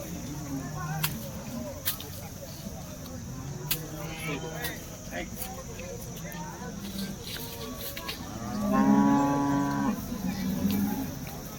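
A Jersey cow lets out a loud, drawn-out moo near the end at a cattle market, with someone speaking earlier amid farmyard background noise.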